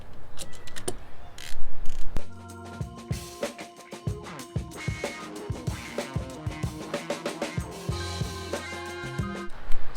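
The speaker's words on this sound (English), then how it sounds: "I'll break them loose with my ratchet" Ratchet with a long extension loosening water pump bolts on a 2015 HEMI engine, rapid clicking pawl bursts in several runs with metallic knocks between, close and clear, no talk.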